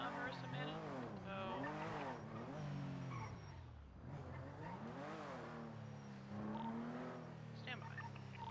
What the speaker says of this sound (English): there is a gauntlet pulling up right now, black in color